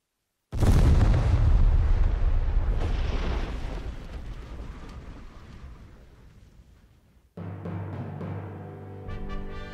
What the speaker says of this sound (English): The cannon blasts through the goddess's shield as easily as iron through flesh